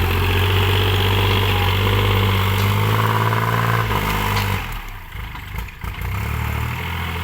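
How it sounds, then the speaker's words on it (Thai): A 2019 Kubota L3218 tractor engine idles with a loud exhaust, a steady close low rumble that dips and wavers briefly near the end before settling again. "ท่อลั่นๆนะครับท่อลั่นแรงๆเลยครับ"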